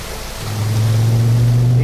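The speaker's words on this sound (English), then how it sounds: "These waterfalls are pretty," Steady rushing of waterfalls beside a mountain road, a broad continuous wash with a low rumble swelling in after a moment, close and fairly loud.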